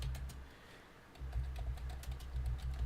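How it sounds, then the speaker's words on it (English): Soft, fairly close typing on a computer keyboard, quick irregular key taps that grow busier after a short lull, with no talking. "typing is terrible"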